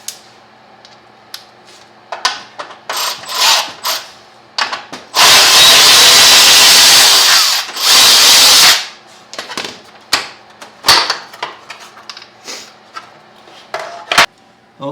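A power tool, likely a drill or driver with an 8mm socket, runs in one loud sustained burst of several seconds while bolts come off a Lifan KPR 200 motorcycle side fairing, surrounded by short clicks and clatters of parts being handled.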